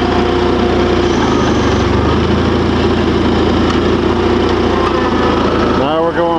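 A Simplicity (Allis Chalmers) tractor engine runs with a loud, steady mechanical drone and rattle, shifting slightly in pitch partway through, with a short rising whine near the end.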